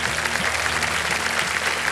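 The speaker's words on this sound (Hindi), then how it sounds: "तालियां बज जाए इनके लिए" A studio audience claps for a contestant on a televised quiz show, a dense, even burst of applause from many hands that is steady throughout and carries no voices.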